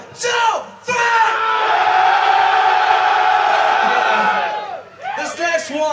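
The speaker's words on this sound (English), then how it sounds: "I still want to hear you all scream as fucking loud as you can on the count of three." A concert crowd at a live rock show at the Limelight in Belfast screaming loudly together on a count of three, a sustained roaring wall of yells and whoops that swells, holds, then fades, with a shout before it and voices after.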